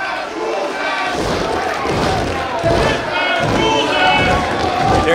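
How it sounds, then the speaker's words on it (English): An indoor independent wrestling crowd chants and shouts loudly and continuously around the ring, with occasional thuds and voices calling out nearby. "There you hear Marcus Mathers trying to stifle the chants from the crowd"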